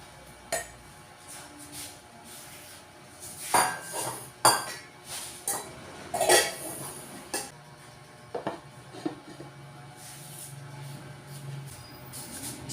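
Jicama and other vegetables for pinakbet are dropped into a clay pot, giving a series of irregular clinks, knocks and clatters of hard pieces against earthenware and utensils, fairly close and moderate in level, with no voices.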